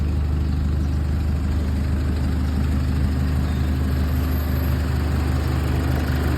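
A 2015 Chevrolet Colorado with a 2.5 Duramax diesel engine and six-speed gearbox idles smoothly, a steady low rumble with an even, continuous hum, close and alone.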